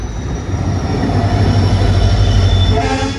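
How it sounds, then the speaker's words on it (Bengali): A train halted at a railway crossing gives off a loud, steady rumble with metallic squeals from the wheels, and a brief brighter tone near the end. "হ্যাঁ ক্রসিং দিবের লিগে ট্রেনটা তখন দাঁড়াইছিল"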